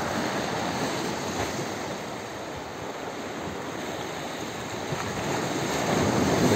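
Sea waves break against a stone breakwater in a steady, broad roar of surf and spray that swells slightly toward the end, heard close and on its own.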